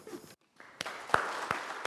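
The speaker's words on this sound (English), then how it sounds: "So please join me in applauding Ash Allen and Elijah Woodman for their heroic efforts" A small audience applauds two Planet Fitness employees receiving a life-saving award. After a brief silence, a few sparse, distinct claps ring out at close range, separated by quieter gaps.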